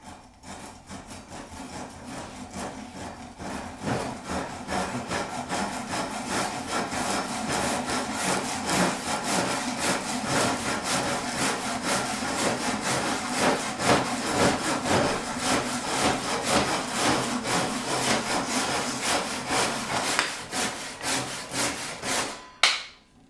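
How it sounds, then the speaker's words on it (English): Japanese pruning and folding hand saws cutting through a timber log, with rapid, steady back-and-forth rasping strokes that run continuously and close, ending with a final snap as the cut finishes. "they're both really fast cutting saws"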